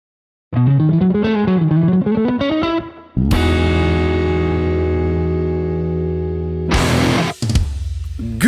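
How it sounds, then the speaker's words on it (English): Electric guitar through a JOYO JF-17 Extreme Metal Distortion pedal, a loud heavily saturated riff of wavering notes giving way to a long sustained distorted chord, then another crunchy strike near the end. "we are checking out the Extreme Metal Distortion pedal from the company JOYO"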